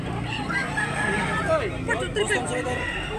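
A Boston Sweater gamecock rooster crows over constant crowd chatter and background noise, somewhere around Tabunok, Talisay, Cebu.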